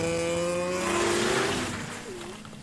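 Snowmobile engines race and whine with rising, then fading tones in a cartoon chase, a loud close roar that thins out over a couple of seconds.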